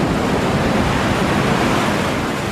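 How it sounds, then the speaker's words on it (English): Storm waves on the North Sea surge as a dense, steady roar of surf and wind, loud and continuous with no distinct breaks or voices. "Here, 25-meter waves have been measured."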